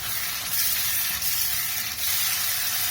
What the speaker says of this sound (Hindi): अब इसमें तमाम खुश्क मसाला डाल के अच्छे से भून लेंगे।